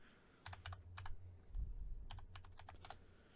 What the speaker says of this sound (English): Oh, I wasn't even typing in Zach.